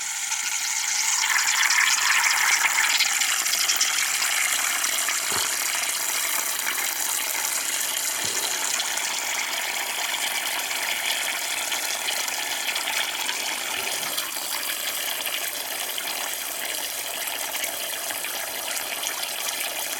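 Water runs from a tap into a container, a steady, loud, hissing gush that continues unbroken, with only a few faint knocks beneath it and no voices.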